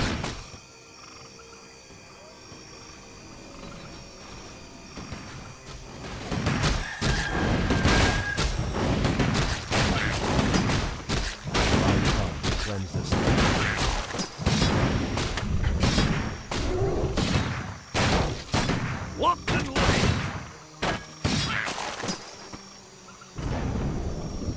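Warcraft III battle between Human and Orc forces, with dense bursts of clashing, impacts and combat noise in rapid irregular hits, loud and busy after a quiet start, then briefly easing before resuming.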